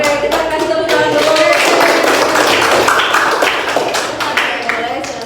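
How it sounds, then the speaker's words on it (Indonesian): Classroom applause for students, a burst of many hands clapping close by for several seconds, with children's voices talking and calling out over it. "Oke, kita kasih tepuk tangan dulu"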